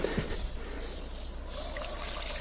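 Liquid lacto serum poured onto the roots of tomato seedlings set in garden soil, a steady close trickle and splash lasting throughout with no talking.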